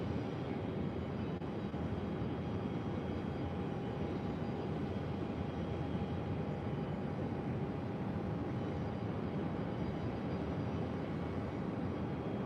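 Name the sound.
Dornier 328 jet arriving at Phoenix airport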